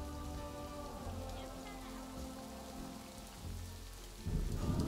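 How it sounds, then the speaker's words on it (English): Steady rain falls in the video game Planet Zoo, a dense continuous hiss of drops with low rumbles of thunder underneath, loud and unbroken, with no talking. "And now it's raining and it's like super dark and we can't see anything."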